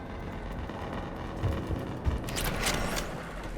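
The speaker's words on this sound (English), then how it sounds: "Gunfire. They are near." Distant bursts of gunfire pop and crackle faintly in Mass Effect 3 Legendary Edition, in a few scattered volleys over a low background rumble.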